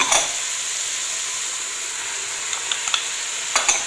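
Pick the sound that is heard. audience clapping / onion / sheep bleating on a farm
onion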